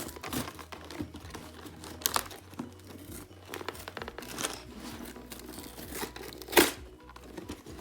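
Cardboard and plastic packaging of a Lego City set being torn and crinkled open, close up, with continuous crumpling, rips and a sharp loud tear near the end; no talking.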